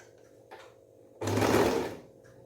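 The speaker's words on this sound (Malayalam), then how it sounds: "ഈ അരികിൽ കൂടെ സ്റ്റിച്ച് ചെയ്യുക." A sewing machine stitches thread piping along a fabric edge in one short, close, buzzing run of about a second after a brief faint start.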